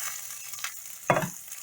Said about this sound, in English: see how they frying up very quick, like how they puffing up? These are your beef hot dogs.